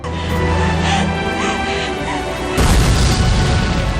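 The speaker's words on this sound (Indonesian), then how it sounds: "Dari ledakan yang amat menggelegar tersebut" A loud, deep boom bursts in midway, a rumbling explosion that follows earlier dramatic music-like sound and stays dense and roaring to the end.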